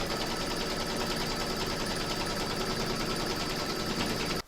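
Embroidery machine stitching a batting placement outline for a sunflower coaster, a steady rapid mechanical whirring and ticking that stops abruptly at the end.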